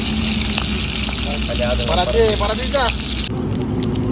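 Green chillies fry in hot oil at a roadside cooking spot, a steady dense sizzle and crackle running throughout, with people talking over it.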